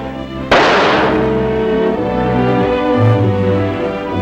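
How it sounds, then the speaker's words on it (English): A gun is fired into cotton for a ballistics test, one sharp loud bang followed by a long ringing decay over an old film soundtrack with sustained musical tones. "You can shoot a bullet into cotton and it will retain the gun barrel markings."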